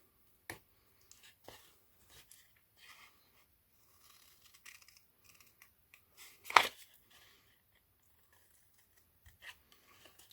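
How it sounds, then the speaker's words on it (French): Scissors bevelling paper tabs on a Halloween paper box, heard as sparse, faint snips and a few louder clicks in a quiet room. "biseauter ces languettes, c'est pas obligatoire, c'est juste que ça vous donne un plus joli fini"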